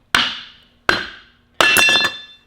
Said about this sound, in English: you want to grab that piece of wood and the hammer?